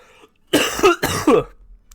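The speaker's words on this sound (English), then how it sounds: "Sorry about the cough." Two harsh coughs in quick succession, close and loud, in an otherwise quiet room.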